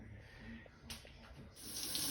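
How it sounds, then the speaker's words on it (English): Water runs from a brand new shower head in a bathroom, a faint, steady hiss that swells louder toward the end. "All right, here is now our brand new shower."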